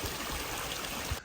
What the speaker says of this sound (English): Cascading water coming off the pond.